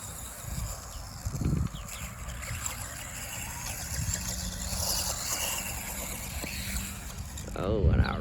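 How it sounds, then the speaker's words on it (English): A Feiyue FY01 brushless two-wheel-drive RC buggy, upgraded with new tires, drives outdoors with a faint whirring motor and rolling noise that rises and falls amid background wind, with a voice speaking over it. "Good little buggy, especially be two-wheel drive."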